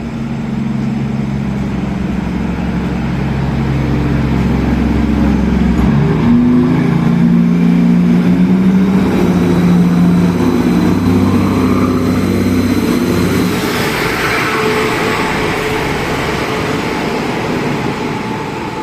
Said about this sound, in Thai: ออกตัวแล้วนะครับสำหรับขบวนรถด่วนพิเศษที่ 44